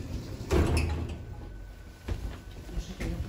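The metal door of a ZREMB sliding-door cabinet rumbles and clanks along its track like a freight wagon door, with a heavy thud at the start and further scrapes and knocks later.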